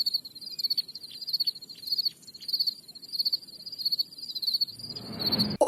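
Crickets chirp in steady, repeated pulsing trills at night, close and fairly loud, continuing alone with no voices until a short burst of broadband noise at the very end.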